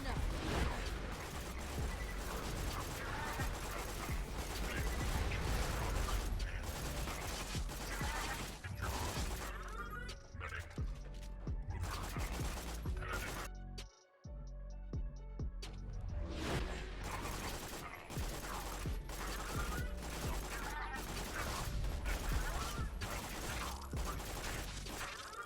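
Rapid Emperor submachine gun fire with Slag element in Borderlands 2: a dense, continuous stream of loud shots with mechanical clatter that breaks off briefly near the middle, then resumes.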